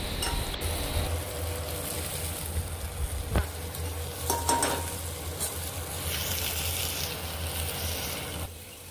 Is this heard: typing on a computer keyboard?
no